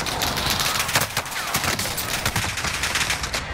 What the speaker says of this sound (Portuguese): Oh, eu estou a levar tiro do outro lado.